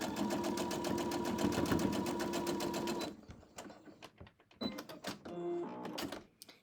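Sewing machine stitching quilt crumb block fabric: steady rapid needle rattle for about three seconds, then stops, leaving fabric handling and soft clicks nearby.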